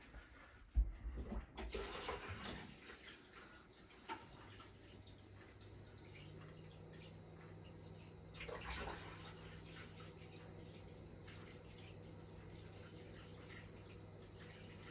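Tap water runs steadily over a rusted pan sold as stainless steel, with a few knocks and clatters at the start and a continuous, fairly close rush of water afterward.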